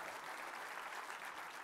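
An audience at the ACM India Annual Event 2018 inauguration claps in sustained, even applause, a dense wash of many hands that stays steady and moderately distant for the whole moment.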